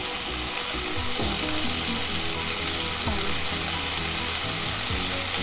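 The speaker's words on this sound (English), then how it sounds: "I'm going to add about, this is ginger, garlic, green chilies and coriander, fresh coriander paste, about 6 teaspoons of those." A paste of ginger, garlic, green chilies and fresh coriander fries in hot oil for masala pomfret, giving a loud, continuous crackling sizzle close by, with faint scraping and stirring underneath throughout.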